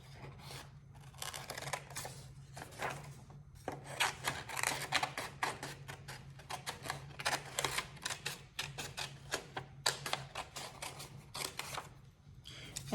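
Scissors snipping through cardboard to cut shoe pieces from a template, a quick irregular run of crisp close cuts and rustles with brief pauses.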